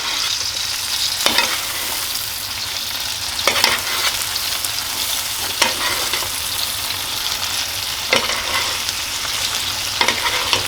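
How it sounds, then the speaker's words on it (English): A steak sizzles steadily in a hot pan while being basted and stirred, with a constant frying hiss broken by sharp utensil scrapes every couple of seconds; no one speaks. "So what we're going to do now, run all that up in there and baste the steak."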